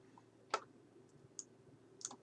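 A few sharp, faint computer mouse clicks while opening AntiMicro and choosing controller mapping, spaced out over about two seconds against quiet room noise.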